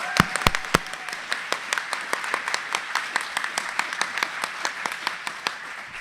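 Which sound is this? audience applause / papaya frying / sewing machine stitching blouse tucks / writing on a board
audience applause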